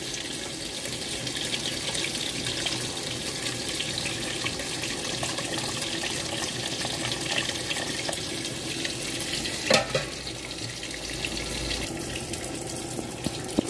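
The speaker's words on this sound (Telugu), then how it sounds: "ఇప్పుడు చింతపండు రసం వేసుకుందాము." Tamarind juice pours into a clay pot of fish curry with a steady watery splash and faint simmering sizzle, a brief clatter near the end, and no one talking.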